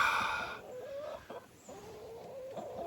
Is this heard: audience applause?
no